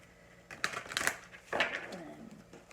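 Cards being shuffled during a reading, heard as two quick close riffling bursts, faint and brief, with no talk over them.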